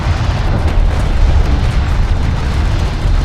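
A strike craft explodes in Homeworld: Deserts of Kharak, a loud sustained rumbling blast that fills the whole stretch with dense low booming.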